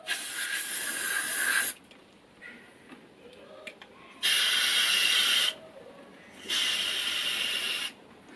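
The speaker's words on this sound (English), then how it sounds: "So I'll just have to spray it inside." Cleaner sprayed inside the piston of a Honda Shadow hydraulic clutch slave cylinder: three close, loud hissing bursts of about one to one and a half seconds each, separated by quieter pauses.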